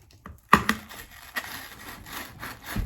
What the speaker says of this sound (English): you're gonna ream out 4 holes